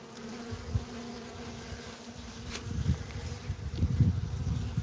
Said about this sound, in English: Bee already working its way down through there.